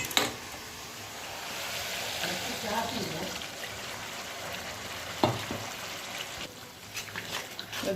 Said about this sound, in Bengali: দইটা দিয়ে কিন্তু ভালো করে নাড়তে হবে অনবরত